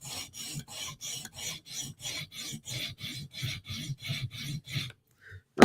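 A Spyderco knife edge is drawn across a coarse 120 grit stone in about fifteen even, rhythmic rasping strokes, close and distinct, then stops with a short clatter.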